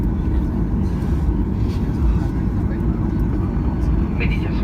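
Steady, loud low rumble of a Norwegian Boeing 737-8JP airliner rolling out after landing at Stockholm Arlanda, a continuous engine and cabin drone with no clear breaks, heard from inside the cabin.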